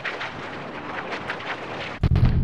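A video game explosion arrives as a sudden loud, deep boom near the end, cutting through a stretch of steady background game noise and rumbling on for a moment afterward.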